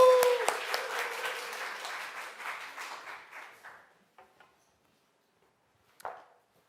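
A church congregation applauds at a Korean Sunday service to welcome a speaker, a burst of many hands clapping that thins out and fades over about four seconds, followed by a few scattered late claps and a brief knock.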